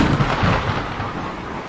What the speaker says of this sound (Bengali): বাইরে প্রচণ্ড শব্দ করে একটা বাজ পড়ল